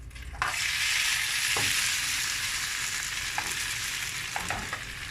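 Zucchini sizzles steadily in hot oil in a covered pan over medium heat, a constant close frying hiss with a few faint clicks of a utensil.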